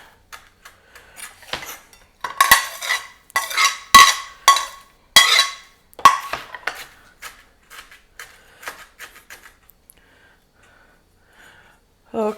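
A knife dices ingredients for egg bites on a cutting board, giving a run of sharp, close chopping taps that come in quick bursts, then thin out and fade to near silence.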